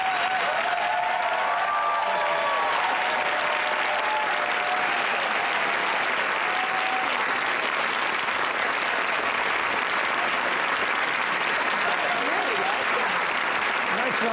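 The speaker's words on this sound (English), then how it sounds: "Round of applause for Hillary Clinton and Christiane Amanpour." A studio audience at a televised town hall in Washington's Newseum gives sustained, loud applause, a continuous dense roar of many hands with a voice briefly audible at the start.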